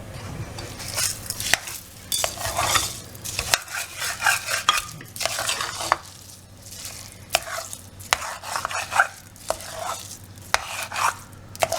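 A spoon stirs sweet rice cooked with sugar candy (kalkandu) in a pot, a steady run of scraping, clinking strokes with a faint sizzling bed underneath, close and fairly loud, no talking.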